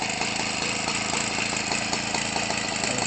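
A Homelite Textron 25cc gasoline RC engine turning an 18-6 Master Airscrew propeller runs steadily at high speed, a loud, continuous buzzing drone that stays even throughout with no other sounds.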